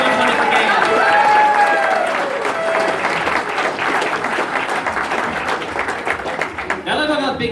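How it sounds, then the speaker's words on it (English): A crowd at a charity auction claps for the guest of honor in dense, loud, sustained applause with a few cheers and voices over it, tapering near the end as a voice starts up. "One more round of applause for our wonderful guest of honor."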